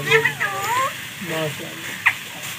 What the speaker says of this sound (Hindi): तोता कह रहा है मियाँ मिठू